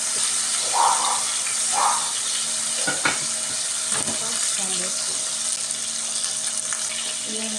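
Burger patties for Loco Moco fry in a pan with a steady broadband sizzle, two louder spitting bursts early on and a few sharp clicks, with no talk.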